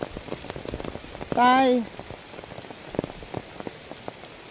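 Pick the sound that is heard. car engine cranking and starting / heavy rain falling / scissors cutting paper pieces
heavy rain falling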